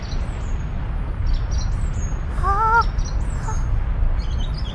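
Birds call over a steady background rush: a few short harsh caws, with thin high chirps scattered throughout.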